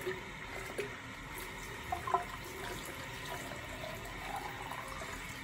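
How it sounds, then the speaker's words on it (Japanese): Hot water runs steadily into a container at close range, a continuous splashing pour with a few brief louder clinks, heard alone without voices. "こちらにお湯を入れます。"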